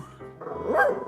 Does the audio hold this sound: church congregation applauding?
no